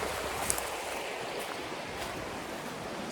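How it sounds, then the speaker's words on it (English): Bald River flows in a steady broadband rush with no distinct events, a continuous wash of water noise heard close by in a wilderness setting. "I'll be crossing this river, and that is Bald River I just showed you."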